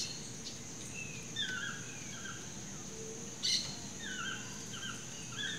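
Outdoor ambience with repeated chirping bird calls over a steady high insect drone, fairly faint and spread through the scene.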